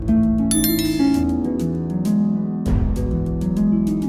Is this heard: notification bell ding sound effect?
yes